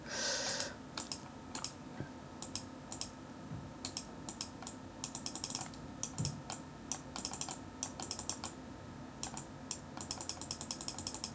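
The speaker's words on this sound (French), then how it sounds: "je sais pas si vous allez entendre mes clics" Rapid keyboard and mouse clicks come in quick, irregular bursts during a video game, close but quiet over a faint background hum, with no one talking.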